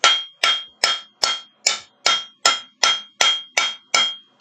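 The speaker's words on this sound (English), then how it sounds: "you can do that with a ball peen or a rounding hammer" Rounding hammer strikes hot steel on an anvil while forging a leaf keychain: about eleven sharp, ringing blows in an even, steady rhythm, close and loud, each decaying before the next.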